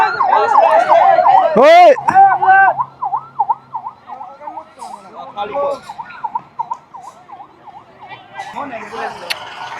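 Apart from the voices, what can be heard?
ambulance siren passing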